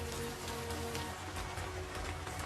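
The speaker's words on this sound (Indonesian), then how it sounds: "Hujan pun turun" Rain falls steadily in a scene from the series Alice in Borderland, a continuous wash of drops heard alone with no voices, alongside a low sustained musical or ambient hum.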